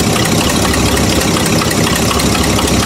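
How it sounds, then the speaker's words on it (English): A Buick engine idles low with a misfire, a loud, dense, continuous rumble heard up close without speech. "perhaps the idle is a little bit low"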